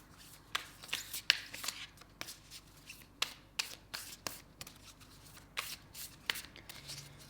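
Tarot cards being shuffled by hand during a monthly reading, a close, quiet run of crisp riffling and snapping bursts in irregular clusters, with no talking.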